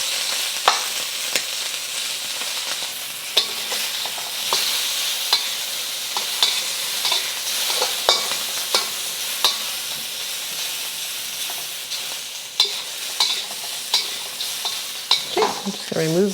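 A dozen small shrimp fry quickly in a little oil, a constant loud sizzle punctuated by regular clicks and scrapes as they are stirred around the pan, with no speech.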